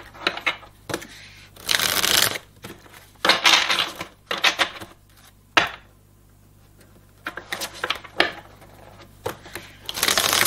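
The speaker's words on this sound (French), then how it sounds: "j'ai envie de tirer ça. Petite carte des animaux totems." Animal totem oracle cards being shuffled and drawn, heard as quick papery riffling bursts separated by short pauses, close and fairly loud with no talking.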